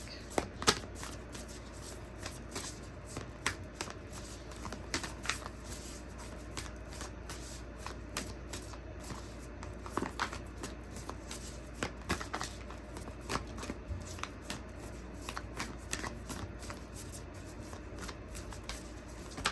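An oracle card deck, the Moonology deck, being shuffled by hand during a tarot reading, a dense continuous riffle of papery card flicks and slaps up close, steady for the whole stretch with no talking.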